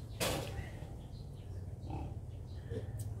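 Pigs on a farm give scattered low grunts and oinks close by, with a sharp squeal near the start, over a steady background hum while a person talks.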